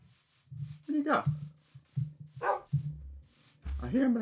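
Game dog in Minecraft barking in short bursts, several yips and barks spread across a few seconds, fairly close, with a person talking over and between them.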